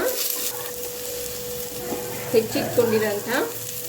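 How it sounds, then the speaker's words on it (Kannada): Onions frying for drumstick sambar, a steady close sizzle running throughout with a few brief stirring scrapes near the end and no talking. "ಸ್ವಲ್ಪ ಹೊತ್ತು ಫ್ರೈ ಮಾಡೋಣ"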